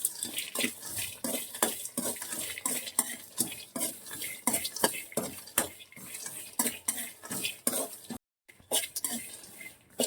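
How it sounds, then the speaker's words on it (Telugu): Ingredients for gutti vankaya curry are dry roasted in a pan, with brisk, rhythmic scraping and clinking of a spoon against the metal over a faint sizzle and a brief pause near the end. "ఇదిగోనండి డ్రై రోస్ట్ అయితే చేస్తున్నాను."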